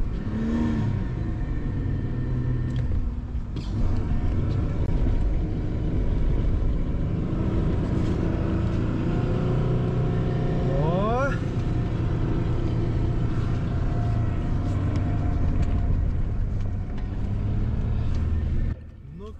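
A Ford car pushes through deep snow in a blizzard, its engine droning steadily and loudly with a continuous rumble and a brief rising rev near the middle.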